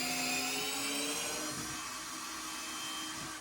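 A high-pitched cordless drill motor whines steadily, its pitch sagging slightly as it drives screws into timber flooring under load for a few seconds before cutting off.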